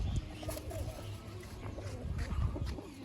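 Pet pigeons coo softly at close range, with a low, throaty rolling call repeating over faint background rustling.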